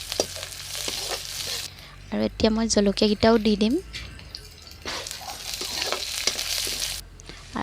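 Onions with cumin and coriander seeds frying in a wok for a fish curry with curry leaves, a steady sizzle and stirring running through the clip while someone talks over the middle.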